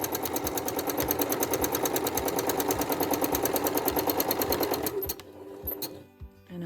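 Sewing machine running fast and steady while stitching curves on a quilt, a loud close rapid mechanical chatter that stops near the end, followed by quieter handling sounds.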